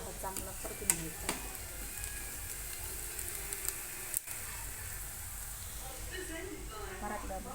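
Onions frying in a pan for Marathi-style chicken curry, stirred now and then, a steady close sizzle with scattered scraping clicks and a sharp knock midway.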